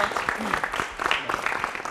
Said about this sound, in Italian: facciamo un applauso alla Federazione Gioco Calcio